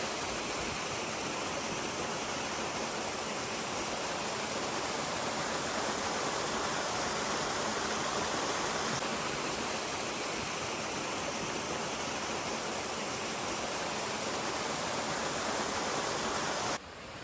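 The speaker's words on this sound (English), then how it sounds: "This is a beautiful shot looking downstream from the top of the waterfall." Rushing water of a small waterfall at the top of a canyon on the Mogollon Rim in Arizona, a steady, loud, unbroken roar with no other sounds.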